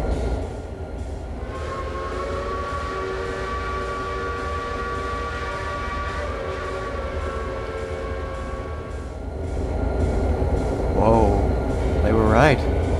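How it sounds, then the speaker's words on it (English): A train passes at a distance, its low rolling rumble steady for most of the stretch while a long tonal whistle drifts over it, followed by warbling higher tones near the end. "Last night, I heard a whistle in the distance."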